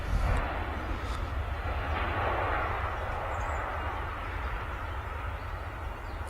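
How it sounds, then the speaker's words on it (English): EasyJet Airbus A320neo airliner touching down on a Manchester Airport runway, a continuous rumbling jet roar with a few faint clicks and knocks, fairly distant and steady. "EasyJet A320neo just touching down there."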